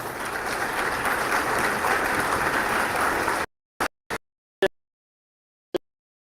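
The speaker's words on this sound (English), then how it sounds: "Let's give them a round of applause." A crowd at a family justice center anniversary event applauds elected officials, steady dense clapping for about three and a half seconds that stops abruptly, followed by four isolated loud claps.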